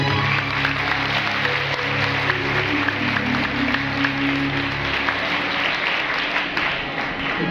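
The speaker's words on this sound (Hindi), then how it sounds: "आपकी तालियां इस बात की तस्दीक करें।" An audience at a live Christian song performance breaks into sustained applause, with steady clapping throughout and a low musical drone underneath that fades near the end.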